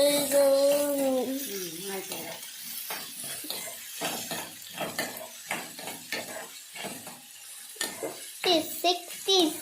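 Chopped onion and green chillies tipped into a pan of beetroot curry, then stirred with a spoon in a busy scraping, sizzling rhythm, while a voice talks over the start.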